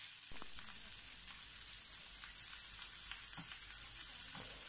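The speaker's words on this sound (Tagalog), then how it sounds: "ituloy lamang po natin ang ating pagprito hanggang sa mag-brown konti ang ating chicken" Chicken pieces fry in a little oil until lightly browned, giving a steady, even sizzle and hiss with occasional soft scrapes and clicks from the pan. No one speaks.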